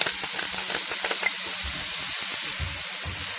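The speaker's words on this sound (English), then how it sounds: "And let that sizzle up nice." Fried rice ingredients hiss and sizzle in a hot pan, crackling bursts over a steady bright frying hiss, with a few low knocks of the pan near the end.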